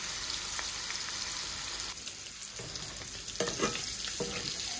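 Fish frying in hot oil in a home kitchen, a steady dense sizzle and crackle throughout with brief stirring or shifting noises, no talking.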